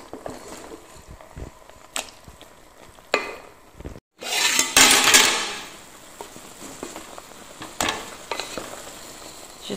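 Beef sears in a pot with no water for a Comorian spiced-rice and tomato-sauce dish, giving a steady low sizzle. Sharp stirring clacks break through it, with a louder burst of frying and spoon scraping midway.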